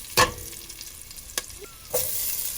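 Curry leaves drop into hot oil for sambar and crackle in short sharp bursts. Three separate spits and sizzles come close up, with a faint hiss lingering between them.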